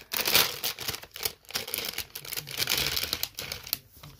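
Plastic packaging holding a set of earrings is torn and crinkled open, a continuous close rustling and crackling with sharp tearing bursts, no talking.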